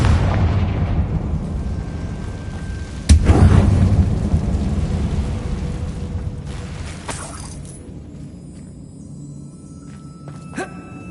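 The Confringo explosion spell goes off inside a closed mine in Hogwarts Legacy with a sharp, heavy blast. A deep rumble trails after it and fades slowly, with a few smaller cracks near the end.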